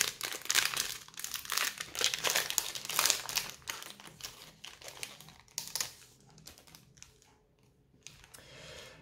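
Foil wrapper of a Double Masters trading card booster pack crinkling and tearing as it is opened slowly, a dense rustle for about six seconds that thins into sparse crackles near the end, with no talking.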